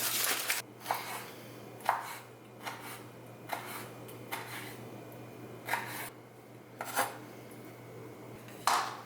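A knife chops poblano peppers into strips on a cutting board, about ten sharp, crisp cuts at an uneven pace, close up with a quiet background hum.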